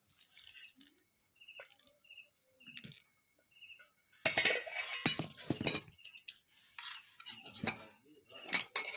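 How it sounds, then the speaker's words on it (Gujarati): Chili pickle masala being stirred into hot oil in a metal vessel, with light clinks of a spoon at first, then a louder burst of scraping, clattering stirring and sizzle with irregular metallic taps, close and with no voices. "ફટાફટ આપણે એને મિક્સ કરી નાખવાનું નહીતર પછી બળી જાય"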